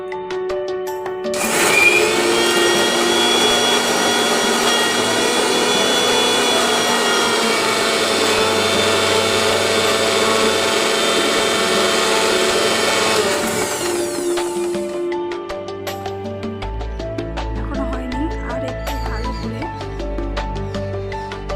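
A kitchen mixer grinder blends mustard seeds and green chili into a paste, a loud steady motor whine with a rattling jar lasting about thirteen seconds, then cutting out into softer clinks and handling noises.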